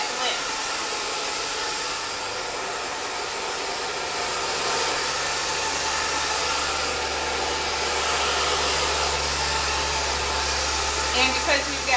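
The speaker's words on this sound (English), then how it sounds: "A little bit of heat. We're going to put some bend in the ends and then follow up the heat with a moment of cooler air." A handheld hair dryer blows steadily and loudly for twelve seconds while a bob haircut is styled in a salon, giving a continuous close airy roar with a slight shift partway through as the airflow changes.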